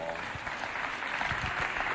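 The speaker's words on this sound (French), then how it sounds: "On les applaudit bien fort." A crowd claps for the children's teams at a holiday event, a short burst of scattered applause mixed with faint voices in the background.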